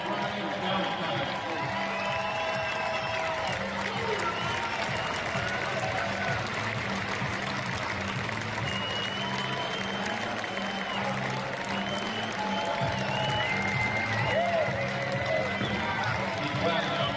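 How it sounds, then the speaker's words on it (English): Arena crowd at a Monarchs home game claps steadily as a jersey is retired, a dense continuous wash of applause and crowd noise running the whole time beneath an announcer's amplified voice and music. "Start clapping, everybody. Start clapping."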